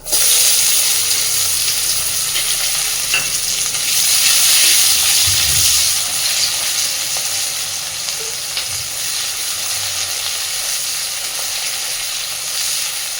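Chopped onion sizzles steadily in hot oil with a dried red chilli, a broad continuous frying hiss with occasional soft stirring bumps, close and fairly loud with no talking.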